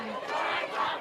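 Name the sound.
crowd booing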